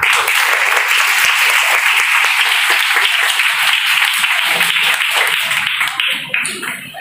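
At a university event with a plantation exhibition and auction, a crowd claps loudly and continuously for several seconds, the dense applause thinning and tailing off near the end.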